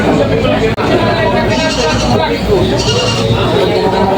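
Goats bleating at a livestock auction market in Lucena amid a busy, loud background of people talking, with several overlapping bleats close by.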